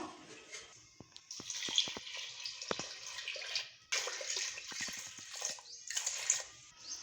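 Water pours and splashes into a pot of lentils in uneven bursts, with brief pauses and a few clinks between pours, fairly close.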